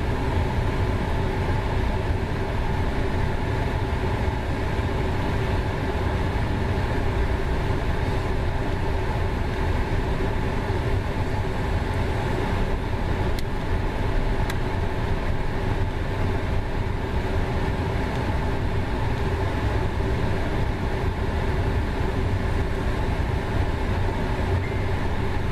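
An Amtrak train passes close by for nearly half a minute, a loud, steady roar of wheels and cars on rail with a few brief high squeals near the middle, no voices.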